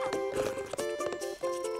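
A cartoon horse's hooves clip-clop in quick, regular beats over bright, busy background music, with the steps fairly loud and close.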